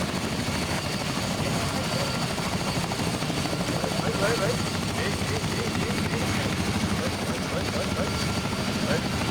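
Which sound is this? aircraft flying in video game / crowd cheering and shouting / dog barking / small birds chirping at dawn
aircraft flying in video game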